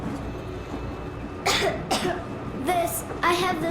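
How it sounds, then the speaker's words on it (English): Several short, harsh coughs in bursts over a low background hum, from the video game Metro Exodus, the first pair close together and the later ones rougher. "I have this cough."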